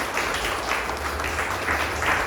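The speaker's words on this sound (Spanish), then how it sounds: "Démosle un aplauso al Señor." A church congregation at a Spanish-language service applauds in praise. Loud, continuous clapping sounds in a reverberant hall, with a low hum underneath.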